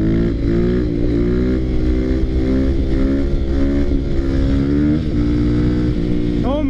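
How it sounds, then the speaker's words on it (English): A Yamaha WR450 dirt bike pulls a power wheelie in fourth gear, its engine roaring loud and steady right at the rider's position with a continuous rising drone and a quick rev flick at the very end. "This thing does wheelies in fourth gear."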